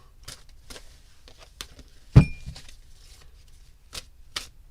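Tarot cards shuffled by hand in a series of crisp riffling bursts, spaced roughly evenly with one louder snap in the middle, close and quiet with no talking.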